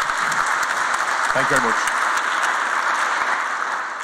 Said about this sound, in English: a round of applause for all the Gustateers, not just today, but over the 3 days